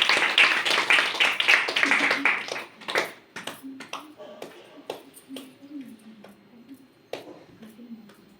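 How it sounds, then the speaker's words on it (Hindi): An audience applauds for a teacher at a Teachers' Day gathering: dense clapping for about three seconds, then thinning to scattered single claps as a voice talks underneath. "सभी तालियां बजाएंगे इनके लिए।"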